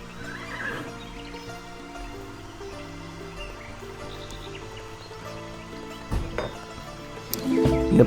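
Horses neighing in the Age of Empires 3 Wars of Liberty game, a shrill whinny over steady game music and battle noise, with louder clashes and hoofbeats near the end.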